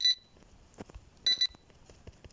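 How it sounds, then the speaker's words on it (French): Electronic beeping from a device, sharp high beeps in short bursts of two or three separated by quiet gaps, with faint handling noises in between. "ça bip, mais je peux pas y aller."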